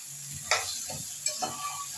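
Potatoes and onions dropped into hot ghee in a pan, giving a sudden close sizzle that settles into steady frying crackle with a few brief stirring bursts.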